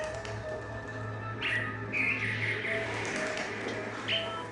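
A bird chirps in short, bright bursts several times against a busy indoor background from a Telemundo telenovela scene, moderately close and without speech.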